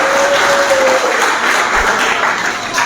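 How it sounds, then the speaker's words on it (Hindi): An audience claps loudly and continuously at a Teachers Day event at an academy in Chonda, a dense close wash of applause with a brief sustained tone at the start and no talk. "भरपूर तालियां इनके लिए"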